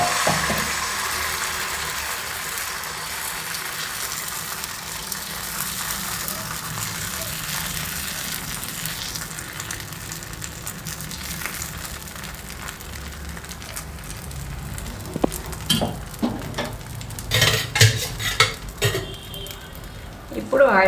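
Tomato dosa batter poured onto a hot pan, giving a steady, fairly loud sizzle that runs throughout, with clattering and scraping toward the end.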